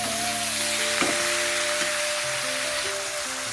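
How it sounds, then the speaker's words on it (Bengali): Vegetables frying in a pan with spices, salt, turmeric and sugar for a vegetarian cauliflower dish, giving a steady close sizzle with faint clinks, no talking. "মশলাগুলো সব একসাথে ভালো করে দিয়ে কষিয়ে নেব।"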